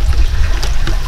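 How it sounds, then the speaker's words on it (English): Water flowing through a hydroponics system, a loud continuous trickling and gurgling rush close by, with no voices. "the system will let water go like this, up and down, up and down"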